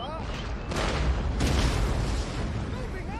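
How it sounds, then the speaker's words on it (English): Dense rumbling cannon and artillery fire on an eighteenth-century battlefield in Empire: Total War, with two heavier blasts standing out amid a continuous roar of booming volleys. "At least all these cannons seem to be hitting the mark"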